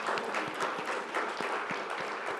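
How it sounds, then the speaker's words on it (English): A crowd at a city's State of the City address applauds, with fairly quiet but steady clapping from a moderate distance and individual claps standing out here and there. "That needs a clap."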